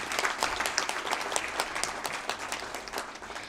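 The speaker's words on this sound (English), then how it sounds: "Let's have another big round of applause," A conference audience at a valedictory civil society conclave in India breaks into loud, sustained applause, dense overlapping claps filling the room without a voice over them.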